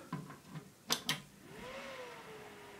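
A custom-built gaming PC starts up with a few clicks and knocks, then a soft fan whir rising and holding steady, close by and fairly quiet, with no talk.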